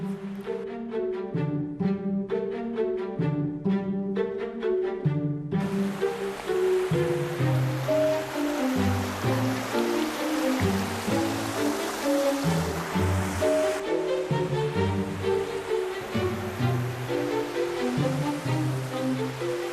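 A waterfall in the Altai mountains rushes in a steady, loud broadband roar that holds without break, with a heavier wash of spray coming in partway through and no voices.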